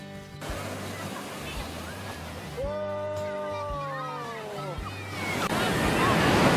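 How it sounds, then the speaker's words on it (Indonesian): Large surf rolls in at Jetis beach, Purworejo, on Java's south coast, a steady broadband roar beneath music and a voice, swelling louder toward the end. "Ombaknya sangat besar, karena ini adalah pantai selatan, jadi ombaknya besar sekali."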